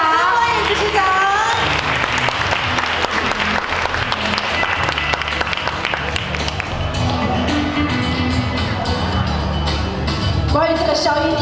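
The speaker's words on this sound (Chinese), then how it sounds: "那接下来让我们一样以热烈的掌声欢迎这一组的颁奖人" An audience at the 2015 DFC sharing conference award ceremony breaks into sustained, dense applause, loud and continuous throughout, with a voice speaking over it at the start and end.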